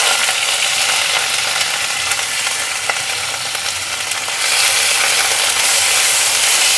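Steady loud sizzling of onion paste frying in hot oil, a dense crackling hiss that continues throughout and grows slightly louder near the end.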